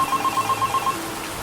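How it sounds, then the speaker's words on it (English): A phone box telephone rings in a Half-Life 2 mod video game, a loud, steady electronic trill pulsing in quick repeated bursts before it cuts off, with no talk. "I've passed by this particular phone box almost every day for the past 4 years, but today was different. Today, it was ringing."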